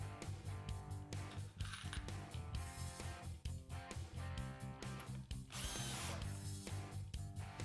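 A power drill drives screws into clamped wooden boards, with repeated loud whirring bursts broken by short pauses and faint metallic ticks.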